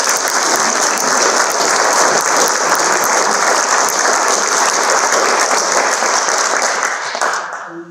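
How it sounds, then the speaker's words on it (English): An audience at a talk on privilege in safety and risk breaks into full, loud applause that holds steady for about seven seconds, then fades out abruptly. "Can I have a round of applause, people, please?"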